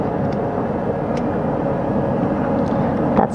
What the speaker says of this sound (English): That second helicopter now making its way back over to the front porch.